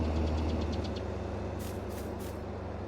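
A tractor engine idles with a steady low rumble in Farming Simulator 22, with a short series of hissing bursts near the end.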